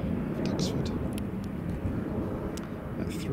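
Aircraft passing over Duxford airfield during a display of vintage planes, a steady broad engine roar that stays loud and constant throughout, with faint murmuring voices in the background.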